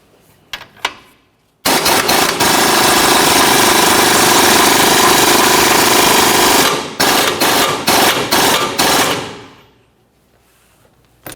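Ball joint driven into the lower control arm of a 2001-2005 Ford Explorer Sport Trac with an air hammer. A few brief taps come first, then loud continuous rapid hammering for about five seconds, then several short bursts before it stops.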